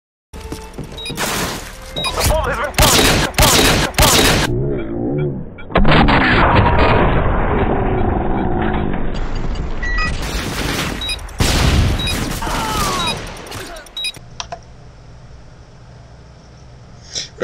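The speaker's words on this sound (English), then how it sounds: "Basically it's a repeat shot, like a sniper that repeats three times and then into slow motion with some effects" Sniper rifle shots from the video game Modern Warfare 2 fire as a burst of loud, sharp cracks repeated several times, followed by booming, drawn-out slow-motion effects and a quieter tail.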